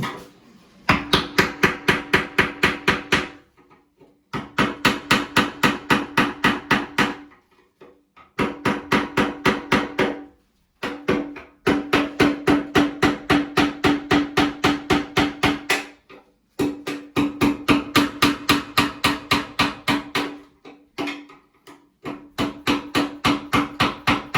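Rapid, steady metallic hammer strikes on a screwdriver driven into a damaged tub drain, in bursts of a few seconds separated by short pauses, close and loud with a ringing tone.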